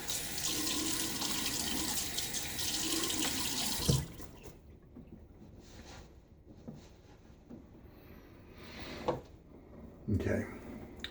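Tap water runs steadily at a bathroom sink for about four seconds while someone wets their face before a wet shave, then stops, leaving quieter splashes and handling sounds.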